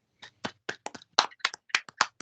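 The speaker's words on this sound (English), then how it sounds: "Come on, let's clap for Demarion." Scattered handclaps from a few podcast hosts, about a dozen sharp, close claps in an uneven rhythm over two seconds, with no talking.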